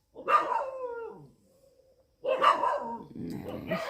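Several dogs barking loudly at night at a dargah, close by, in two rough bursts with a short quiet gap between them and growly yips at the end.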